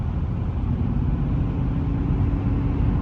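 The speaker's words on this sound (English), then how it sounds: "There's the Ram truck. You can hear the exhaust from here." A Ram pickup truck's exhaust rumbles from some distance away, a steady low engine drone with no clear revs and no voices.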